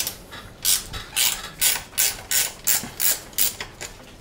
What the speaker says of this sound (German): Der hier ist ganz praktisch, der hat nochmal eine Ratsche mit integriert und wir schrauben mal auf.